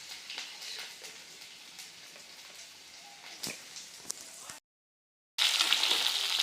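Garlic sizzles in oil in a pan while more oil is added for chicken curry, a soft continuous fry with scattered pops; it cuts out briefly to silence, then returns louder and hissier; no talking.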